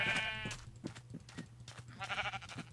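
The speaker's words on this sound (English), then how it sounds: "I'm gonna need a bed, so I'll kill these sheep." Minecraft sheep give a few short, soft bleats, brief and fairly quiet, with no talk over them.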